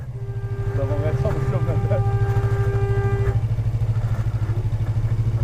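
A Yamaha R25 motorcycle idles and creeps through dense match-day traffic near a football crowd, its steady low engine drone running loud and close throughout, with a brief burst of talk early on.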